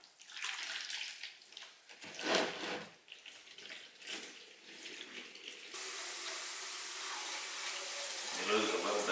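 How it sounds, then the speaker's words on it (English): Water running and being poured off fermented seed pulp in a container, first in splashy bursts, then as a steady, fairly close stream of flowing water. "add water to the fermented pulp"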